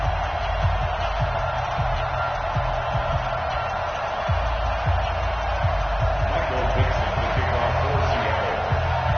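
Stadium crowd noise from an EA Sports NFL game, Seattle Seahawks at New Orleans Saints, holding as a steady broad roar throughout with no clear peaks.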